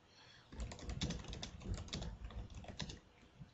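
Rapid clattering keystrokes on a computer keyboard as subtitle text is typed, a quick irregular burst of close, fairly quiet clicks lasting about three seconds with no voice.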